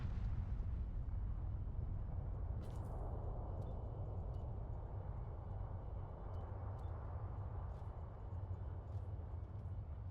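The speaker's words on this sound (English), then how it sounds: "Now that's a fucking explosion." A large explosion in the video game Fallout 3 roars as a sustained, dense rumble for the full ten seconds, with a few sharp crackles and pops scattered on top and no talking.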